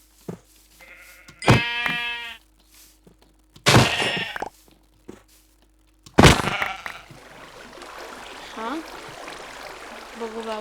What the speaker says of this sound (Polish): Lecimy na owce.